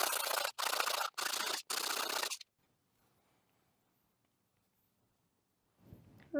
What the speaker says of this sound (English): I'm just moving over to some finer grit sandpaper.